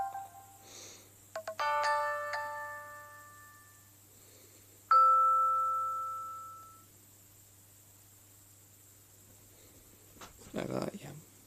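A short chime, the default notification tone of the Sailfish OS smartphone operating system, rings out once with a clear tonal ding that fades over a couple of seconds, among other brief tones and some light handling noise.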